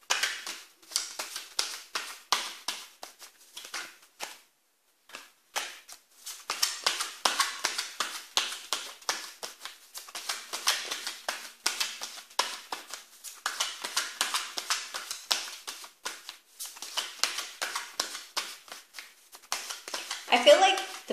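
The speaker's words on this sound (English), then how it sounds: "now I'm going to shuffle the cards and get more information" Rapid crisp riffling of cards in repeated bursts, close by, with brief pauses between shuffles and talk audible in places.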